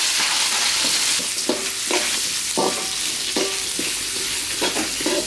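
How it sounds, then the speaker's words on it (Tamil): Curry leaves, green chilli and onion hit hot oil after cinnamon, giving a loud continuous sizzle close by, with irregular spatula scrapes and knocks against the pan throughout; nobody speaks. "பட்டை நல்லா பொரிஞ்சிருச்சு கருவேப்பிலை பச்சை மிளகாய் வெங்காயத்தையும் சேர்த்துப்போம்"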